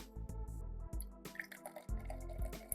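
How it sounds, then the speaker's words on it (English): Liquid is poured into a cocktail glass lined with a cucumber ring, giving a short, close trickle and a few drips over a low, steady background hum. "when you pour in your liquid"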